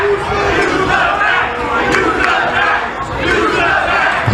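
Wrestling crowd at a steel cage match roaring and shouting in a loud, sustained wall of voices, swelling and dipping slightly but never letting up.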